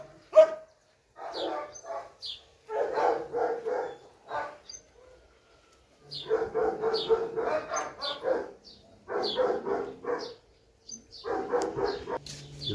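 A dog barks repeatedly in clustered bursts, moderately close, with short pauses between volleys and no talk.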